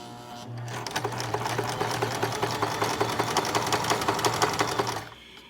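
Domestic sewing machine stitching two pieces of fabric together, a steady rapid mechanical chatter with a low motor hum that runs for about four seconds and then stops, close and fairly loud.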